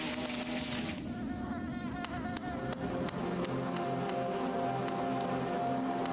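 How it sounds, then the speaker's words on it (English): Bees buzz continuously in the Hive area of the video game Hollow Knight, a dense droning hum with layered wingbeat tones that stays steady and moderately quiet throughout. "Not gonna lie, bees aren't my favorite creatures."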